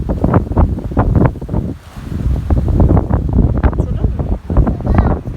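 Strong gusty wind buffets the microphone in loud rumbling bursts, with a voice briefly audible beneath the roar.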